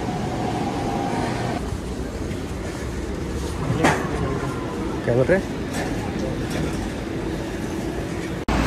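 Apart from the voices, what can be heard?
metro train riding from Waterfront station, Vancouver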